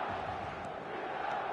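Stadium crowd noise in eFootball 2025, a dense continuous roar of many voices held at an even level throughout, with no individual words standing out.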